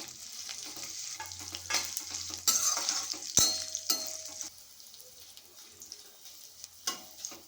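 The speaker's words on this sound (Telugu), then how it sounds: "పల్లీలు అయితే ఈవెన్గా వేగాలండి" Peanuts fry in hot oil with curry leaves while a spoon scrapes and stirs them around the pan, a soft crackling sizzle broken by intermittent clinks and scrapes.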